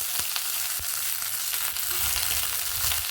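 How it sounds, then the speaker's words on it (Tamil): Mustard seeds, green chili, garlic, shallots and curry leaves temper in hot oil for a Tamil dal, giving a steady, close sizzle scattered with sharp crackles and pops throughout. "எண்ணெய் ஊற்றி கடுகு பொரிஞ்சதும் பச்சை மிளகாய், பூண்டு, சின்ன வெங்காயம், கருவேப்பிலாம் ஆட் பண்ணிக்கலாம்."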